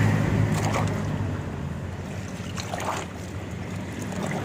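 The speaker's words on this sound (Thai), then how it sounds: "ทีนี้ผมจะเอาไปล้างน้ำ" A 125R motorcycle engine part being washed in a basin of water, with continuous close sloshing and splashing that stays fairly steady throughout.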